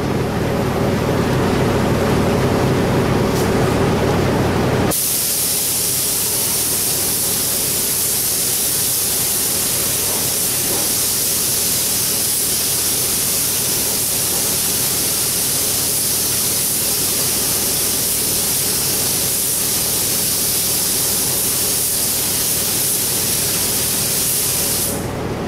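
Spray gun spraying primer thinned about 10 percent with a wide fan, a loud steady hiss of atomized paint and air running continuously, changing tone slightly after a few seconds, no talk.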